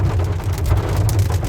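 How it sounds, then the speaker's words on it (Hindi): Steady rain drumming on a moving car near Ambala on the way to Chandigarh, with a constant low road rumble and brief louder patches of drops against the vehicle, close and continuous. "बारिश आ गई है"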